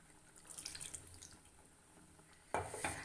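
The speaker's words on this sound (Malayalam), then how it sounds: "ഇനി ആ മിക്സിയുടെ ജാറിലേക്ക് കുറച്ചും കൂടി വെള്ളം ചേർത്തിട്ട് നമുക്കതൊന്ന് ഒഴിച്ചു കൊടുക്കാം" Water is poured into a mixer grinder jar while making a masala curry, a soft trickling splash that is faint and close, then a brief louder gush near the end, with no voices.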